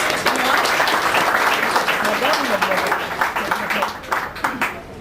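A crowd of guests applauds at a civil wedding ceremony, loud dense clapping that gradually thins into scattered claps, with voices and cheers mixed in.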